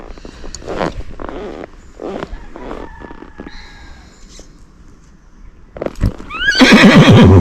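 Hooves of an anxious Tennessee Walking Horse mare clop and shuffle nearby, then she lets out a loud, close, shrill whinny at the end.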